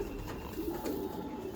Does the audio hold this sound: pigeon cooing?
yes